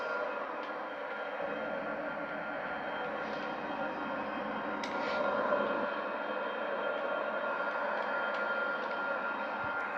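Boeing 787-9 airliner in Microsoft Flight Simulator, a steady broadband cockpit engine drone holding level throughout with a slight swell midway and no talking.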